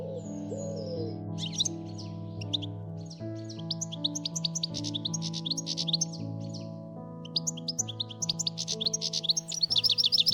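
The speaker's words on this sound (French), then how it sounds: "Les chardonnerets se baignent et les linottes aussi." Goldfinches and linnets bathing at a garden bird bath make busy, overlapping chirps and twitters with rapid fluttering splashes building toward the end, all over soft continuous background music.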